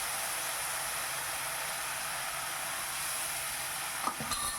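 Spice paste with a splash of water stirred and sautéed in a pan for a Bengali bhetki fish curry: a quiet, even hiss of frying that stays constant throughout, with a brief clatter of utensil near the end.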